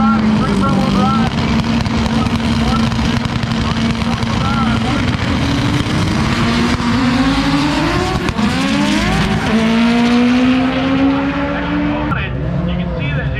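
A turbocharged stick-shift front-wheel-drive race car launches off the starting line at a drag event, its loud engine climbing through revs and shifting, with tire noise and crowd or announcer talk underneath.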